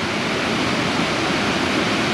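Bridal Veil Falls pours in a loud, continuous roar of falling water at close range, a dense, unchanging rush that fills the whole moment with no talking.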